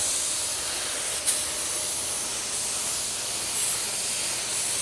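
A spray gun lays down car paint with a continuous bright airy hiss that holds steady and loud throughout, with one brief click partway through.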